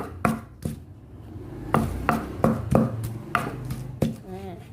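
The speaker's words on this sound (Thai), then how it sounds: "ตำให้น้ำก็ออกดีเลย" Olives pounded in a mortar for a Thai chili dip: about ten sharp, close pestle thuds in an irregular rhythm, with short pauses between bursts and a faint voice near the end.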